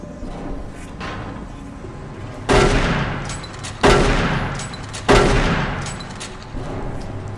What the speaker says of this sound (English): shotgun is not great at a distance, of course